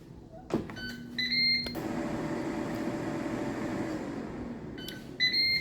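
A Ninja Speedi cooker, used here to cook farro, gives a short series of electronic beeps at the start and again near the end, with a steady fan-like hum running in between.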